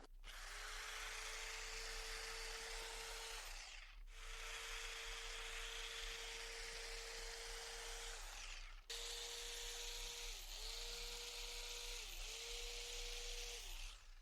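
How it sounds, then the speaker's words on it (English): A blade cutting cleanly around upholstery foam on a footstool, a steady high whirring hum in three long passes with short gaps, then several shorter bursts, close and loud with no talk. "So I'm going to cut it nice and clean all the way around so we've got a nice clean edge."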